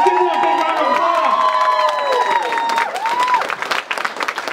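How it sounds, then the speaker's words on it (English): An audience at a Minnesota state representative victory event for District 53A claps loudly, with cheering and high whoops rising over the applause before it fades. "Let's give them a big round of applause."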